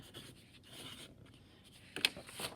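Pencil or marker writing a name on the back of a sheet of paper, soft close scratchy strokes in short bursts, with a sharper tap or scrape near the end.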